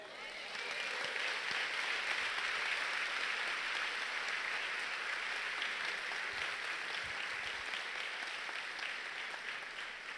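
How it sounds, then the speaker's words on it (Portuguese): A church audience applauds, sustained even clapping that swells in and holds steady for about ten seconds, heard at a distance and fairly faint. "Dê um aplauso a ele."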